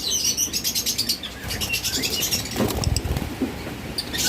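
Violet Fischer's lovebirds in a cage give rapid, high-pitched chirps and tweets in quick repeated bursts, with some rustling and wing flutter close by and no talking.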